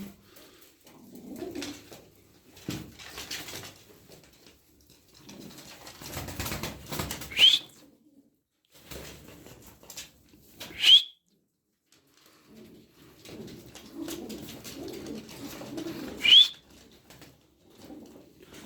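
Pigeons in a loft coo softly in low, rolling phrases, close and repeated, with occasional brief wing flaps and quiet rustling between calls.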